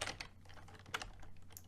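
Rapid clicking of keys on a computer keyboard, typed in quick irregular bursts close to the microphone, with no voices over it.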